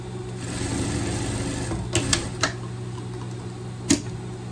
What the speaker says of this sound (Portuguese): Vou no overlock, passar um overlock aqui e já volto.